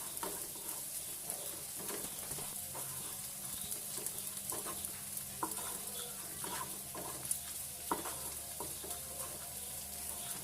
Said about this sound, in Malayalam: ഇനി ഇത് നന്നായിട്ടൊന്ന് ബ്രൗൺ നിറം ആവുന്നോടെ വരെ നമുക്ക് വറുത്തെടുക്കാം.